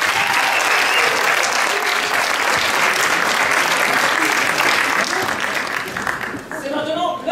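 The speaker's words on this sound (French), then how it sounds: "C'est une victoire sur le prix évidemment pour les Épicez-vous qu'on peut applaudir très fort." Loud, sustained crowd applause greets the winning team at an improv match, thinning out near the end as a few scattered claps and voices remain.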